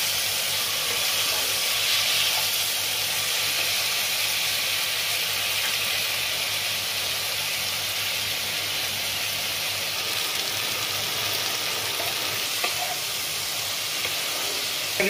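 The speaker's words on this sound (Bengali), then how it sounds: "এবার একটু কষিয়ে নিচ্ছি, আস্তে আস্তে হতে থাক।" Spices with ridge gourd and potato curry sauté in a pan, giving an even hissing sizzle that holds steady and close throughout.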